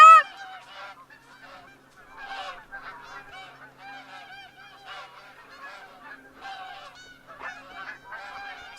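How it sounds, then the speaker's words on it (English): Many geese honk in a loud, overlapping chorus in the hunting game theHunter: Call of the Wild, with repeated calls throughout and a sharp burst at the start. "So many geese right this second."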